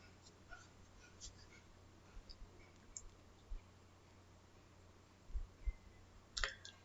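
Mouse clicks on OK buttons in EAGLE PCB design software, a few faint, sparse clicks over a quiet hiss, with a small cluster of louder clicks near the end.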